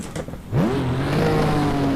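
A Formula 1 car engine in a racing game rises sharply in pitch as it revs after the clutch is engaged, then holds a steady loud drone for about a second and a half.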